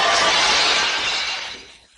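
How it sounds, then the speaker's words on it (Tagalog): An anime sound effect of mirrors shattering: a loud, bright crash of breaking glass that rings out at once and then fades over about two seconds, with no speech. "Ayaw niya maguluhan sa mga salamin kaya binasag niya ang mga ito."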